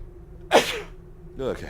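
A single sharp sneeze bursts out close by, followed a moment later by a short spoken word over faint background hum.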